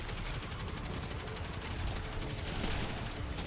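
Continuous rapid gunfire in the video game Destiny 2, a dense dense stream of shots and impacts filling the whole moment at steady loudness, with no talk.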